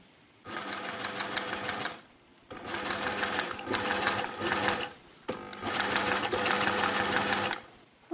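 Sewing machine stitching fabric for a Corolle kit top, three bursts of fast rattling stitching separated by short pauses, close and loud with no talk.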